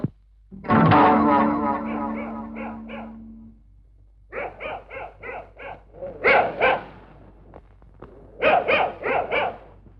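Several dogs bark in short clustered bursts, fairly close, with a heavy processed, distorted quality and a low droning tone beneath.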